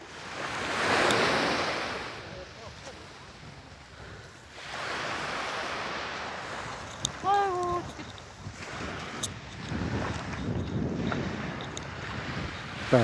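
Sea waves roll up onto Songjeong beach in Busan, a broad wash of surf rising and falling in several surges amid wind noise on the microphone.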